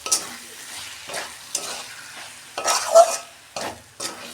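Cabbage frying in a pan, stirred with a utensil: about seven distinct scraping, sizzling strokes in an uneven rhythm over a quiet background sizzle, close and clear with no talking.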